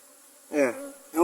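Honeybees from a queenless swarm at a newly hived colony buzz close by in two loud, droning bursts separated by a brief lull.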